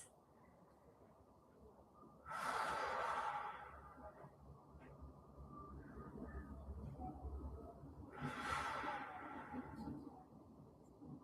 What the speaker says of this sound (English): 2 wide full breaths.